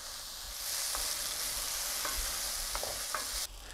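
Onions sauté in oil inside a cast-iron Dutch oven with a soft, steady sizzle and a few light scrapes of stirring, then the sizzle cuts off abruptly near the end.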